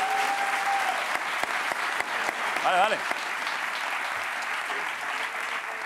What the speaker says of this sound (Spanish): Dejar un aplauso para el padre de Sara,